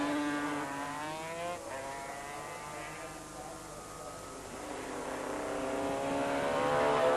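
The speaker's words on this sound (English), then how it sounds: "Rotax powered machine. Number 43, and very close behind him in 4th place, the Victorian Donny Osborne on the Honda V-Twin 250cc also" Racing motorcycles, including a Honda V-Twin 250cc and a Rotax-powered machine, roar along a circuit during a 500cc road race at Oran Park, their engines droning and rising steadily as they close in, with no talk.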